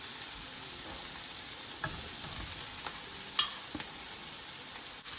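Mashed potatoes being stirred into spiced oil in a frying pan for mini samosa filling: a soft, steady sizzle with scattered light scrapes and taps of the utensil, close but fairly quiet, no voices.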